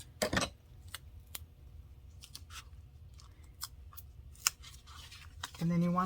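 Scissors cut through a giant foam wheel for a scrapbook folio: a sharp snip at the start, then scattered small clicks and crinkles, close and quiet, before a voice begins speaking at the end.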